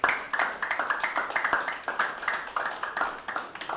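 Audience clapping for a speaker at an event, with steady, rhythmic applause throughout and moderate loudness.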